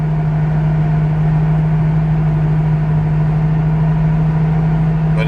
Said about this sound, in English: Now you can hear it when it goes to 4-cylinder mode. It sounds awful.